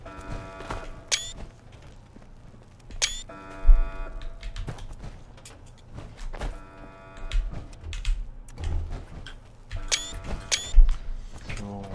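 Camera shutter in the Fallout 76 video game's photo mode, a series of sharp mechanical clicks and short whirring bursts repeating at irregular intervals over quiet background.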